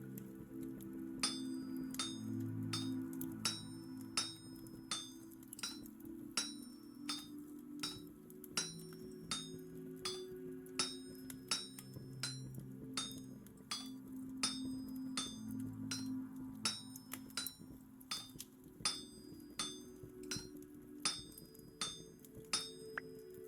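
A chisel strikes repeatedly in a video game, a quiet series of sharp, ringing metallic clinks tapping at a steady, brisk rhythm over a soft low background hum.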